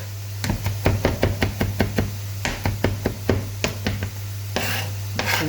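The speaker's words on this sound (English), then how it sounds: "just making sure my baby spinach is all chopped up" A knife chops baby spinach on a board in a home kitchen in a fast, steady run of crisp thuds. Near and clear, it pauses briefly, then resumes, with a faint background hum and no talking.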